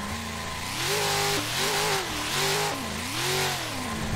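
A BMW E92 engine revs up and down in waves as the car spins donuts, close and loud, the pitch climbing and falling repeatedly over a few seconds with no talk.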